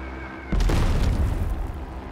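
A bomb blast in the tank strategy game Total Tank General, Moscow counter-offensive: one sudden loud boom that rolls into a long, rumbling decay with no talk over it.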